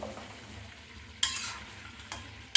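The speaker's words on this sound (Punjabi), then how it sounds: "ਹੁਣ ਇਹਨੂੰ ਆਪਾਂ ਇਸੇ ਤਰ੍ਹਾਂ ਹੀ ਭੁੰਨੀ ਜਾਵਾਂਗੇ ਕੜਾਈ ਦੇ ਵਿੱਚ" Mutton and tomato paste roast in a kadai with a soft steady sizzle, broken by two sharp scraping stirs of a spoon against the pan.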